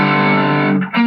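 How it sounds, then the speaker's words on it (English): A distorted electric guitar plays a short minor pentatonic run from a solo, with a loud, saturated, sustained tone and a quick note change near the end, heard alone without talk. "Now we've got a nice little minor pentatonic run"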